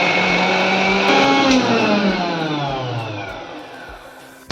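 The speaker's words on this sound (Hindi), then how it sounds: "यहाँ पे आप देख सकते हैं 1 से 2 बार मैंने मिक्सी चलाई है" A kitchen mixer grinder churns homemade cream from malai toward butter, a steady loud whirring motor whose pitch slowly drops over several seconds before cutting off with a brief clatter.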